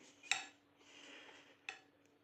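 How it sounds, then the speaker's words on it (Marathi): Yogurt being whisked in a bowl for dahi bhindi, with quiet scraping and two light clinks of the utensil against the bowl, spaced about a second apart. "दह्याला चांगलं व्यवस्थित फेटून घ्यायचं"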